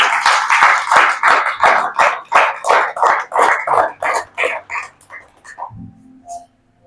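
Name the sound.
church congregation applauding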